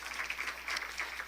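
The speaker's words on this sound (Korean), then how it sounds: "자, 박수해 줍시다." A church congregation gives a brief, quiet round of clapping for a newcomer during a Sunday service, soft and somewhat distant, lasting only a moment.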